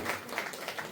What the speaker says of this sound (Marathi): सगळ्यांनी टाळ्या वाजवून त्यांचे अभिनंदन करते.